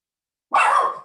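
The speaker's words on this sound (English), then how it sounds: "my dog, he thinks he's a guard dog" A single short, loud bark from a dog acting as a guard dog, sudden and close after silence.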